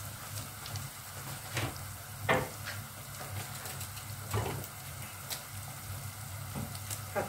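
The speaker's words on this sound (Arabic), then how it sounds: "هنصفرها بقى شويه كده، مش هنحمرها قوي." Liver with onions and peppers sautés in a pan, making a soft, continuous sizzle broken by several louder stirring scrapes. The sound is close and fairly quiet, with no speech.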